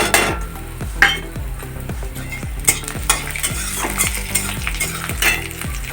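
Chopped green chillies and fried dried chillies go into a frying pan. A loud, close sizzle is broken by repeated rhythmic scraping strokes of a utensil against the pan.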